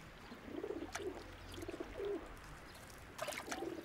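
City-centre pigeons bathing at the water's edge coo softly in a few low, rounded calls, some distance off, over a faint background trickle of water.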